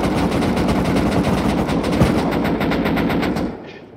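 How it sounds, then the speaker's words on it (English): Rapid automatic gunfire from a video game as players shoot out bags, a dense continuous burst that stays loud for about three and a half seconds before cutting off abruptly. "Everyone, shoot out these bags."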